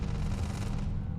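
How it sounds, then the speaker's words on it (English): Gunfire in the video game Starfield, a steady dense rattle of shots with heavy low-end thump, fairly loud and continuous throughout with no talk. "Oh, somebody is shooting."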